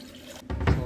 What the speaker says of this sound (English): we will transfer this synthetic water one by one in succession, in series